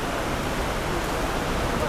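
Steady rain falling outdoors at a Thai temple, a dense, even hiss that holds at the same loudness throughout with no pauses or separate drops standing out.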